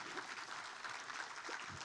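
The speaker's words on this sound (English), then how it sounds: "Can we have one good amount of energy with big round applause" Applause from the audience at a celebration of the International Day for Biological Diversity: steady, fairly faint clapping held at an even level for a couple of seconds, with no voices over it.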